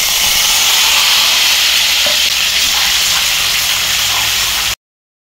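A ginger, garlic, onion and green chili paste fries in a pan, giving a loud, even sizzle that crackles faintly before stopping abruptly near the end.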